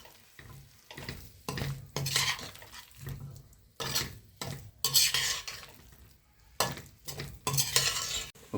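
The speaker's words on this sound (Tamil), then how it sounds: "போட்டுட்டு கிண்டி விட்டுக்க வேண்டியதான்" Plantain slices frying in a pan with curry leaves and grated coconut, stirred with a utensil in repeated scraping bursts against the pan over a faint sizzle, close by.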